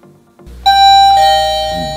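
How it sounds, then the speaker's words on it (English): An electronic doorbell chime on a maglock and PIR access-control kit sounds once, clear and close, a ringing tone that changes pitch partway through and then fades, after a soft click. "Doorbell."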